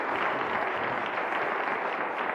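Audience applause, a steady dense patter of clapping at an Italian talk about the cosmos and the Hubble Space Telescope, moderate and continuous for a couple of seconds with no voices.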